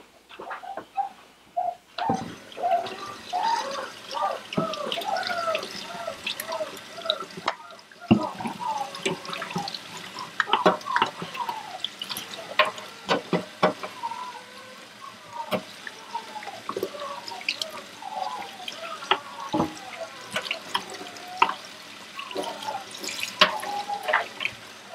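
Running water splashing during a bath for a six-week-old Aussiedoodle puppy named Olive, with a faint tap-like flow, drips and small sloshes, fairly quiet and close, with brief soft sounds scattered throughout.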